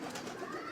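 A pigeon coos softly on a rooftop, a brief low murmuring call heard faintly amid a noisy background with no voices.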